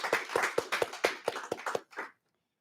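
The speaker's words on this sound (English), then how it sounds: "Let's give a round of applause to all of our high school cum laudes" A small group claps for high school cum laude students at a school awards ceremony, about ten sharp, evenly spaced claps close by before stopping abruptly into silence.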